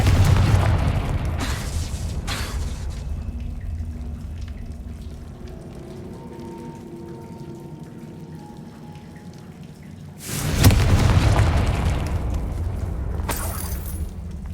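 A Confringo fire spell explodes in Hogwarts Legacy, a loud burst that comes after a long stretch of quiet ambience, with a lingering crackle as it fades.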